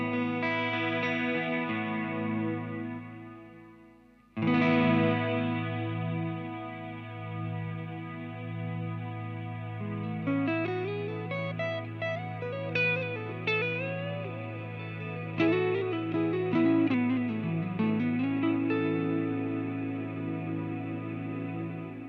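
A Walrus Audio SLÖ reverb pedal holds a sustained guitar chord as a lush, steady wash while single-note melody lines are played over the top, with a fresh chord swell midway and no talking.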